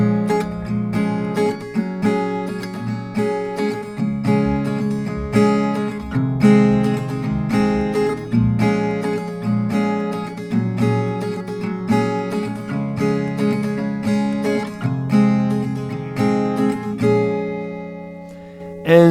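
Acoustic guitar strumming the chords of a song in a steady, rhythmic pattern, ringing clearly and alone with repeated chord changes.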